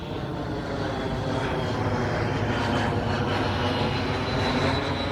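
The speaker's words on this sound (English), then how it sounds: "see the plane passing over me" An airplane passes overhead near the river bank by the Memorial Bridge in Washington DC, a loud continuous roar that holds steady for several seconds without anyone talking.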